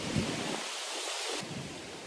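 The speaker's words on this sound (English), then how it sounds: "It's super windy, so I'm trying to film between." Steady broadband roar of strong wind in Yellowstone buffeting the microphone, with gusty low rumbles throughout.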